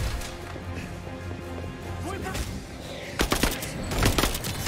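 Gunfire and combat clatter in Marvel's Avengers, with a busy bed of game sound followed by a cluster of sharp, loud shots near the end.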